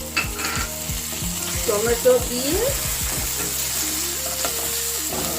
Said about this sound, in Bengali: পেঁয়াজ ভাজা হয়ে গেছে, আদা রসুন ভাজা হয়ে গেছে। এবারে টমেটো